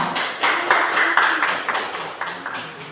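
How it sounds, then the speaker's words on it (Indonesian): Audience applause at a civil-servant gathering comes as a series of loud, close bursts of clapping and taps, swelling and fading in uneven waves across the whole stretch. "Beri aplaus untuk kita semua."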